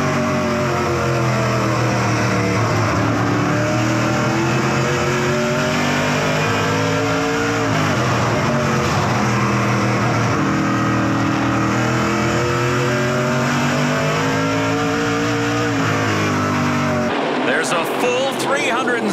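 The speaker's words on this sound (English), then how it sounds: "We ride on board with Jason Hathaway in fifth." Onboard a NASCAR Pinty's Series race car during a 2019 Prairie Thunder Twin 125 race, the engine roars loud and continuous, rising and falling in pitch through gear changes and throttle shifts.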